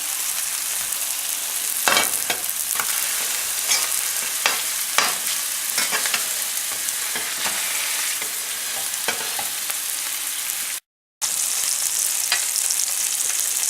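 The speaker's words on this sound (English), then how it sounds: "Once the second side is seared well, feel free to press down on them to get any moisture or grease out of the inside of the burger into the pan." Homemade Italian sausage patties searing in a pan, a loud, dense, continuous sizzle with scattered pops and spatula scrapes, close up and uninterrupted by speech.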